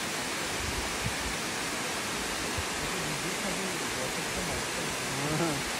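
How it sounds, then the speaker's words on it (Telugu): Falling water at the first level of Elephant Falls in Shillong, Meghalaya, makes a constant broadband rush, steady and fairly close, with no other sounds standing out. "సో ఇదే ఫస్ట్ ఫాల్స్."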